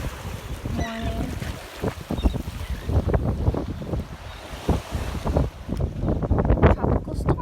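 Strong wind buffets the microphone on a stormy morning at a resort dock on Captiva Island, Florida, as a tropical storm approaches, with steady roaring gusts and irregular loud thumps over possible water and waves for the whole stretch.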